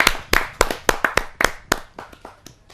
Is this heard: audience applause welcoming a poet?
yes